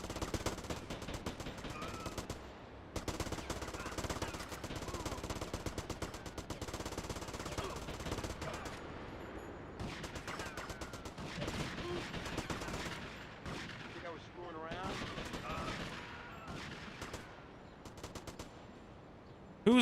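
Rapid automatic gunfire and shotgun blasts from a shootout in GTA Liberty City Stories, dense continuous bursts layered with game effects across the whole stretch, loud and close.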